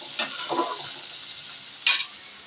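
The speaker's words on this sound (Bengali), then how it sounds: "এইবার আমি এগুলোকে একবার ভালো মতো নাড়াচাড়া করে তারপর মশলাগুলো তরকারির ওপর দিচ্ছি।" Katla fish curry sizzling in a pan as it is stirred, with a steady hiss and two sharper spoon scrapes, one early and one near the end; no voices.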